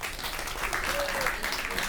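Audience applause at a panel event on nutrition and food as medicine, a soft steady patter of clapping from a crowd, fairly distant, with a voice faintly over it.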